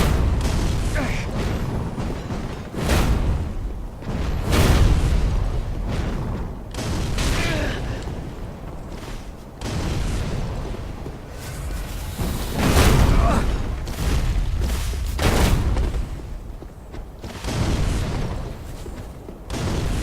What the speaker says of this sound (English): Working counter is lots of fire bombs. And a firebomb.